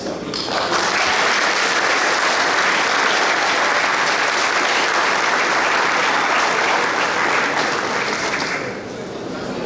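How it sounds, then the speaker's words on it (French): A large audience in Montreal claps loudly and continuously for nearly ten seconds at a gathering honouring the first lady, then the applause thins slightly near the end. "sous vos applaudissements"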